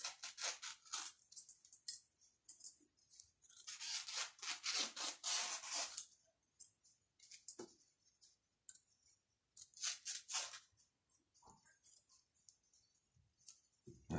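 Scissors cut through mask fabric in several close, soft rasping bursts, with short snips and pauses in between, fairly faint and with no talking.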